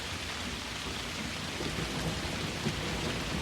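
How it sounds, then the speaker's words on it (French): Heavy rain in a thunderstorm, a dense continuous hiss of drops with low rumbling thunder rolling underneath, loud and steady with no voices. "Et lui n'entendait rien à cause du bruit de la tempête."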